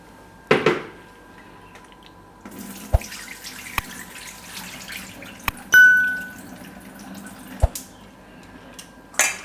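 Water is poured off soaked chana dal into a sink, with a brief splash and trickle among sharp metallic clinks and dings of vessels, fairly quiet and intermittent.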